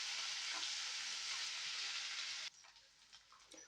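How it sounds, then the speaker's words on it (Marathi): Onion and roasted coconut paste frying in hot oil gives a loud steady sizzle that cuts off abruptly partway through, leaving faint clinks and quiet background. "ती पेस्ट सुद्धा तेलामध्ये छान अशी फ्राय करून घ्यायची आहे."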